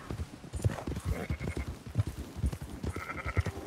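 Horse hooves clip-clop steadily in Red Dead Redemption 2, a run of regular close hoofbeats with a couple of short tonal calls on top, a whinny from a horse and a newly found mare.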